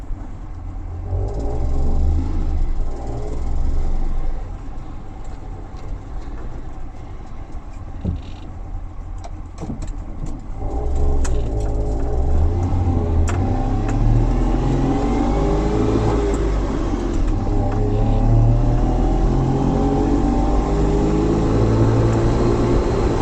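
A DKW car with a two-stroke engine drives along, its engine droning and rumbling steadily throughout, growing louder and busier about halfway as it picks up pace, with no talking.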